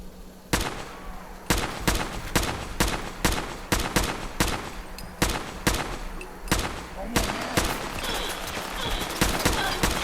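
Rapid bursts of missile turret fire in Fallout 4, loud sharp shots repeating in a steady volley for the whole stretch, with a faint voice briefly underneath.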